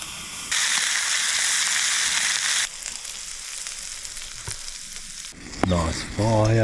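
Lamb chops, cutlets, sweet potato, zucchini and asparagus sizzle loudly over an outdoor fire pit made from an old beer keg, a steady close frying hiss that eases partway through before a brief voice near the end.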